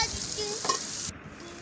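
Eggplant pieces being stirred into a frying masala in a pan, a steady close sizzle with scraping stir strokes, then the hiss drops away sharply near the end, leaving a quieter simmer.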